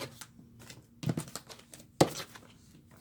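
Tarot cards being shuffled and split into several piles, heard as close, crisp bursts of papery rustling and flicking with short pauses between, including one sharp slap.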